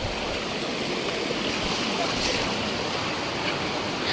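Clear water of a stream pool rushes in a steady broadband roar, nearby during rainy weather, constant and unbroken.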